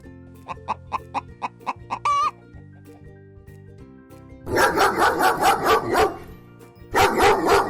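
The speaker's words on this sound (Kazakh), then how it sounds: "Ит." A dog barks repeatedly in loud, sharp bursts, in two rhythmic volleys over soft background music, preceded by a run of quick chicken clucks and a short squawk.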